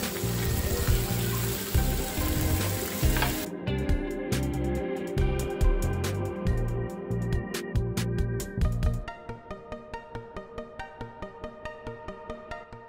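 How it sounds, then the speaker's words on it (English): Steady crackling sizzle of rice pancake batter frying on a hot skillet at a food market in Da Nang, followed by a series of rhythmic tapping clicks. "you can hear the sizzling sound when the batter hits the hot skillet."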